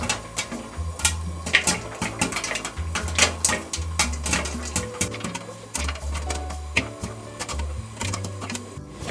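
Popcorn kernels pop in a pan, sharp irregular pops scattered over a steady sizzling and rattling background, continuing throughout.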